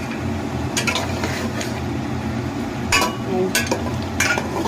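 Fried potatoes being stirred into a pan of country chicken curry, a continuous low sizzle broken by several bright scraping and clinking strokes of a spoon against the pan.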